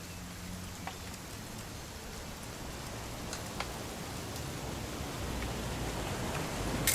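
Steady rain in What Remains of Edith Finch, a continuous even hiss of falling drops with a few faint sharper taps, heard alone without voices.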